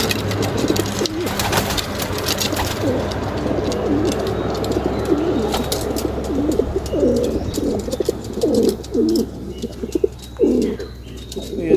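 Pigeons coo repeatedly inside a loft, a run of low rounded calls close to the microphone with occasional chirps and soft fluttering over steady background hum.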